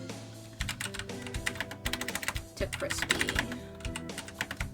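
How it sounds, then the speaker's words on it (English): A loud hand-me-down computer keyboard clatters in quick uneven bursts of close, sharp keystrokes, with a person speaking briefly over the typing. "this keyboard is loud as fuck"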